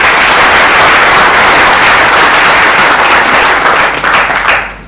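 Audience applause at a personal speech event, dense and loud continuous clapping from a crowd that holds steady for several seconds and then fades toward the end.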